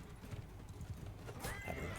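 A horse neighs and whinnies after being stabbed during a Mount & Blade II: Bannerlord battle, with clip-clop hoofbeats and combat noise close by. There is no talk.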